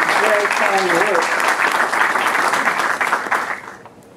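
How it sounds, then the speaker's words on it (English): Applause fills a hall at a conference session on cyber threats as the audience is asked to stand and clap, a dense wash that holds for about three seconds and then fades out, with a voice speaking briefly over its start. "I'd like to ask that you give them a round of applause"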